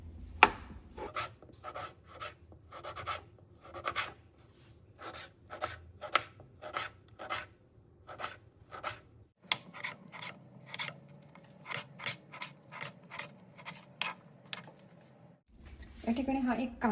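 A tomato being chopped with a knife, a steady run of crisp, evenly spaced strokes, close and clear, with a short break midway before the chopping resumes.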